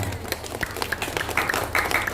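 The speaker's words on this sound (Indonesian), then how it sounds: "Tepuk tangan lagi" Steady applause from a crowd, a dense wash of clapping that keeps going for a couple of seconds with no speech over it.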